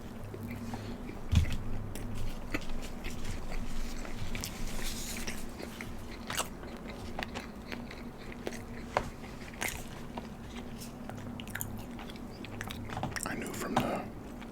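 Biting and chewing a sausage, bacon, egg and cheese breakfast sandwich, close wet chewing with a sharp bite early on, steady over a low background hum.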